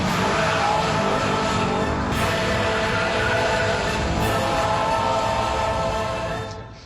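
The Redback Spider, an Australian-built sports car, roars loudly at speed with tires squealing, a sustained dense blast of engine and skidding that fades out at the end.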